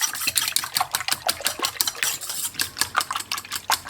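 Eggs whisked in a large bowl, a fast rhythmic clatter of the whisk striking the sides, close and steady with no voices.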